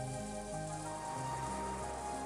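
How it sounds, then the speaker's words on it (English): Steady wind and rain ambience from a video game, a constant hissing wash of rainfall with a low droning hum beneath it, heard alone at moderate level. "with the quiet sound of a never-ending wind and rain"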